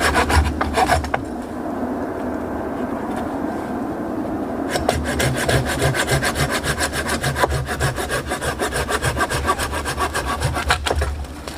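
Hand saw cutting through a tree fork, with rapid rhythmic rasping strokes, close and loud, pausing briefly near the start and then running steadily to the end, no talk.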